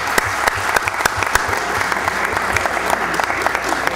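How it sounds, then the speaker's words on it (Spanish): An audience at a neighbourhood citizen security committee meeting claps steadily, a dense sustained applause from a small crowd filling the room without pause. "Un aplauso para él."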